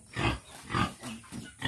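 A pig in a rural province setting gives a series of rough grunts and squeals, about four close bursts in quick succession.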